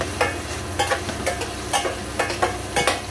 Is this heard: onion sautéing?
yes